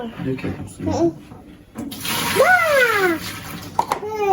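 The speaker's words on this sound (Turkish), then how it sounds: "Altının suyunu dök şimdi." Water from boiled pasta being poured off into a sink, a rushing splashing pour that starts midway and runs steadily to the end, with people talking before and over it.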